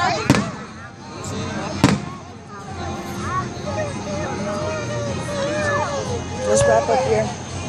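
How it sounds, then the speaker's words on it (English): Fireworks burst over Tom Brown Park in Tallahassee, Florida, with several sharp booms and crackles spaced a second or more apart, echoing across an outdoor crowd with children and adults talking nearby. "Watch the fireworks."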